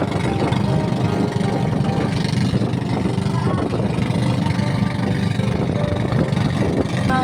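A motorboat engine idles steadily while the boat tows two floating rafts, a continuous mid-pitched drone running unbroken throughout, close and fairly loud.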